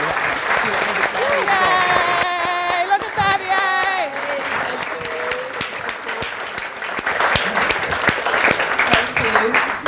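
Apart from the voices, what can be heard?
audience round of applause at book launch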